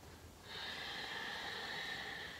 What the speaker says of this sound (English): just for a couple of deep breaths